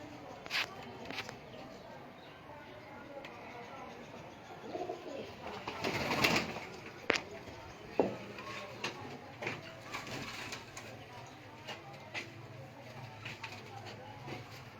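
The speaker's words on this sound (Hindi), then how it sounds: "ये दोस्तों कबूतर चेक करें माशाल्लाह।" Pigeons kept for sale in Sheikhupura coo softly and repeatedly under someone talking, with scattered clicks, rustling and a burst of flapping or handling noise partway through.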